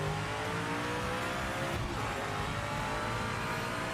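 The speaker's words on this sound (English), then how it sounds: "This 300Z just sounds great, but it's just such a shit car." Nissan 300Z race car engine in the Project Motor Racing game, a loud, steady drone of engine and road noise held at an even level throughout, with no talk.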